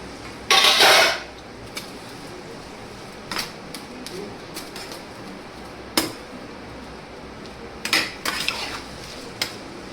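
A spoon scrapes and knocks against a pan while potato filling is stirred, giving sharp metallic clatters, one longer rattling scrape early on, then sparse separate clinks over a low background.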